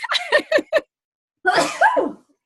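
Two sneezes a moment apart, the first a quick burst of short bursts, the second a fuller, louder blast; close and loud, with no talking.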